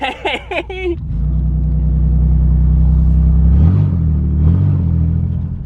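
Modified minivan built to sound like a GTP, its engine roaring loud and close as it revs up through first and into second gear, a sustained rising rumble with a couple of shift dips, following a burst of voices at the start.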